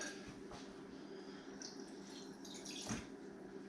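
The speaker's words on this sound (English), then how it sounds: "add a little bit of water to it first" Water poured into a coffee cup of rib sauce gives faint, brief dripping and splashing against a soft background hiss. The sounds are quiet and scattered.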